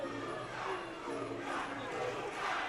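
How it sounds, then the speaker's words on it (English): A dense arena crowd at a Muay Thai fight roars and shouts continuously behind a local fighter, Luca Roma, filling the space at a steady loud level. A commentator's voice is mixed into the roar. "Crowd getting behind their local boy, Luca Roma."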